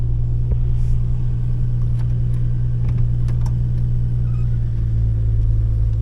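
A Plymouth Valiant with a Slant 6 engine drives along, its steady low engine rumble loud and continuous from start to finish with no talk.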